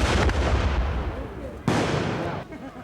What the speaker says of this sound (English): Now the British troops are returning fire with musketry.